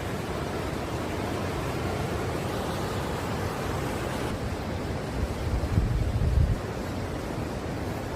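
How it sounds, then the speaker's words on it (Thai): A large waterfall on the Dalälven river near a Swedish village, heard as a steady, dense roar of rushing water that holds evenly, swelling slightly toward the end. "น้ำตกที่ใหญ่โตมากๆเลยของประเทศสวีเดนนะคะ"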